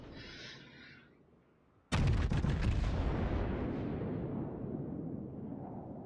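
Yamato battleship main guns fire in World of Warships: a single huge, sudden blast after a quiet lull, followed by a long rumbling roll that slowly fades over several seconds.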